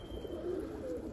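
A pigeon's soft brief coo, faint and close over a quiet outdoor background.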